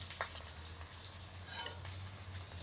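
Fish frying in a pan of hot oil with white mustard seed, two garlic cloves and a dried red chili, giving a soft, steady sizzle with faint crackles, close and quiet.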